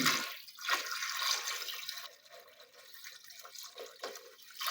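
Water pours into a cooking pot of mutton trotters (paya) as a hissing, splashing stream that runs steadily, then eases into lighter trickles and drips. It is close and fairly loud, with no talk.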